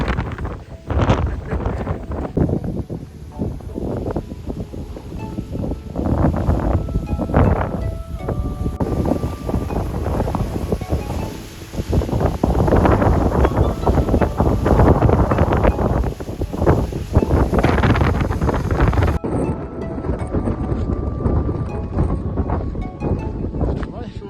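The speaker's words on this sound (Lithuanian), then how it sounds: "Biškį vėjas sukilo." Strong gusting wind buffets the microphone in loud, uneven rushes and roars that swell and ease over a long stretch, with no voices heard.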